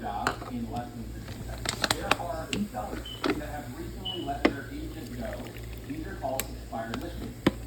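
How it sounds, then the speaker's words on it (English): About a cup of water pouring and splashing into a pot for a Mexican hot dog dish, with trickling and clinking sounds under a person speaking nearby and a low hum in the background. "at this point I'm going to add some water, about a cup"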